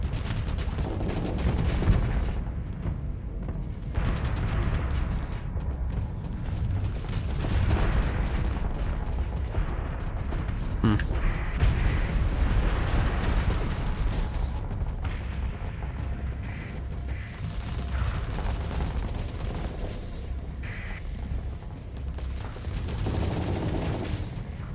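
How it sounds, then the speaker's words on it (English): A dying spaceship blows up in a sci-fi colony game, a sustained roar of heavy explosions and crackling blasts that rolls on continuously, dense and loud, without talk. "Since this thing is going to die soon, it's going to explode."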